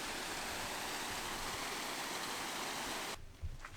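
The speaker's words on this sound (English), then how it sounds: "Ooh, waterfall!" Waterfall beside the ruin of an old mill built in 1724 in Scotland, a loud, steady rushing roar of falling water that fills the scene up close, then cuts off abruptly near the end, leaving a brief quieter moment.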